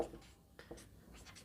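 Someone writes notes on paper, a few quiet scratchy pen strokes in short bursts, faint and close, with no voices.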